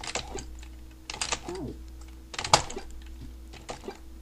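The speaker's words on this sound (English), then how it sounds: "You can hear me destroying my keyboard." A computer keyboard is hammered hard during a retro platform game, with rapid loud clacking key strikes in irregular bursts over a steady low hum.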